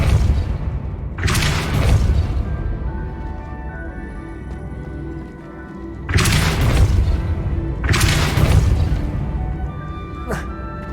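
In Hogwarts Legacy, the Depulso spell lands with heavy, booming impacts: two big crashing thuds several seconds apart, then a sharper third hit, over steady game ambience with a voice calling out.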